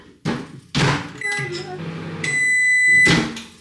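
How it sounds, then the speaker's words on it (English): A microwave oven heats porridge made with milk, frozen raspberries and chia seeds: several heavy door thunks and clunks, a running hum, then a sustained electronic beep before a final clunk. "Microwave 2 minutes."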